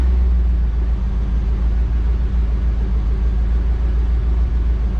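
A 3rd gen Camaro fitted with a cherry bomb muffler runs with a steady low exhaust rumble, fairly loud and even, without distinct rev peaks and with no talking.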